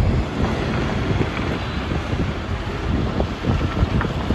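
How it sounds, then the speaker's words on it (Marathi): The Ganga flows below a narrow, landslide-damaged mountain road, heard as a constant loud rush of water mixed with wind buffeting the microphone, no voices. "खाली नदी तुम्ही बघू शकता"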